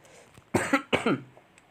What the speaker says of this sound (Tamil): ஒரே இருமல் காய்ஸ் இந்த இருமல் வேறு போய் தொலை மாட்டுது என்னைய விட்டு